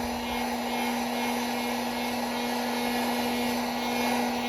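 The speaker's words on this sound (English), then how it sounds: "We're going to use a hair dryer. We'll get this board dry fast." A hair dryer blows hot air onto the damp circuit board of a Vendex Headstart Turbo 888 XT computer, a steady, even whooshing drone with a constant motor whine, close by and heard alone.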